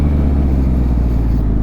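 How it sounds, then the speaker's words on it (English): Yamaha MT-09 SP motorcycle, a 2021 model, its engine rumbling loud and close with a steady low drone while the auto blipper works during a test ride, no voices over it. "How about that auto blipper though?"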